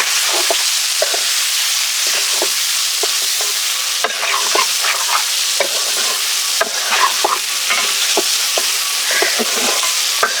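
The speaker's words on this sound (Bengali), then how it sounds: "এখন এই মশলার সাথে ডিম কষিয়ে নেব" Fish roe sautéed with spices in a pan, a continuous close sizzle punctuated by repeated scraping stirs of a spatula, steady and loud throughout with no voices.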